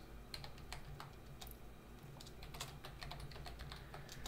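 A terminal command is tapped out on a computer keyboard, a quick irregular run of close, light key clicks continuing steadily with no talk.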